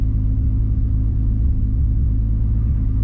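A steady, deep exhaust rumble through a screamer pipe from a JDM Toyota Supra with a 700hp 2JZ engine idling nearby, low and continuous with no voices.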